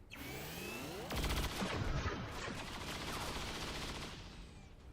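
Video game gunfire, rapid bursts of automatic shots, loud and dense, running almost continuously with heavier volleys in the middle and no voices.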